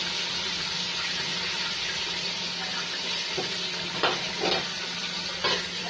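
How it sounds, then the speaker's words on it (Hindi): Potatoes fry in oil for a kofta curry, a steady close sizzle with a few stirring or scraping bursts toward the end and no talking. "उसी में मैं ये आलू डाल दूँगी ताकि ये थोड़े से फ्राई आ जाए"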